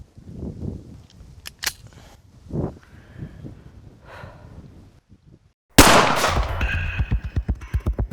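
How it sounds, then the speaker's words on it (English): Gunshots are fired at an NRA card on a target. Several sharp reports ring out at first, then a rapid string of shots follows in a loud burst near the end. "not only am I gonna cut it up, I think I'm gonna shoot it up first."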